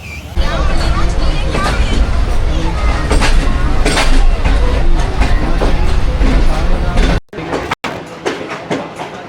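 A passenger train pulls into the side platform at Kotri railway station in Sindh during a storm, its loud, steady rumble and rolling rail clatter filling the scene under background crowd babble before it cuts off abruptly near the end.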